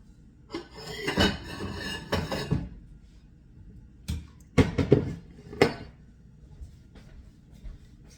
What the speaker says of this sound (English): I'm going to sift my flour because I got a lot in it